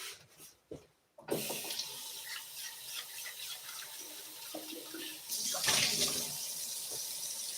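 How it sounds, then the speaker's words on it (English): Kitchen faucet running into a sink to rinse dishes, a steady close hiss of flowing water that starts after a few knocks and swells louder partway through. "I want to rinse everything out"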